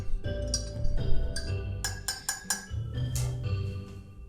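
A spoon stirs dark roast coffee in a cup, giving a run of light metallic clinks and taps against the sides at close range, with no talking.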